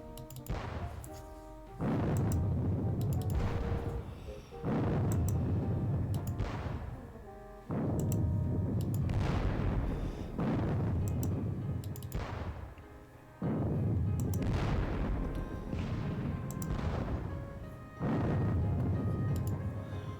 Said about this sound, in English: let's get the guns firing again